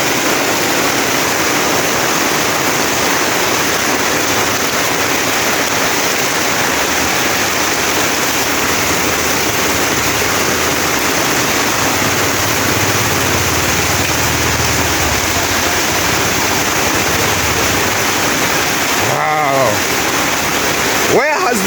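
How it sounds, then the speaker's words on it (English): Heavy rain pours down steadily in Mombasa during an El Niño downpour, a loud, dense, unbroken roar of water lasting throughout. "Where has this rain come from?"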